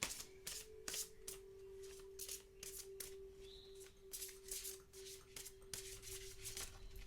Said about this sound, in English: These are really thick cards. They're not that easy to shuffle.